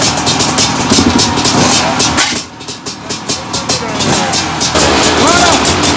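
A vintage 500 racing motorcycle at a beach race, its engine revving loudly with a rough, pulsing roar that dips and surges, close by, with people talking over it.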